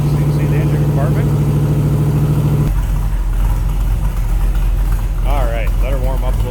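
Ford 302 V8 in a 1966 Shelby Cobra replica idles with a deep, loud rumble, dropping from a higher fast idle to a lower steady idle partway through, with a voice talking over it near the end.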